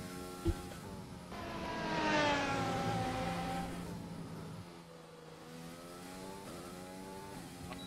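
A Formula 1 car at the Red Bull Ring in Austria accelerates with a rising, whining engine note that climbs through gear changes, passes close by and then fades, heard alone with no talk.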